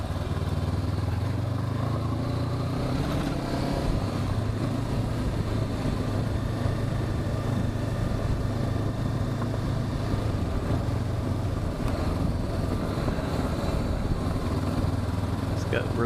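A 2021 Honda CB500X adventure motorcycle lugs along in sixth gear at low speed, its engine a steady low drone mixed with wind rush, a rider talking over it.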